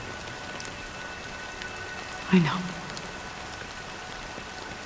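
Rain falls steadily in the video game Honkai Star Rail, a soft, even hiss holding throughout, while a voice briefly speaks partway through.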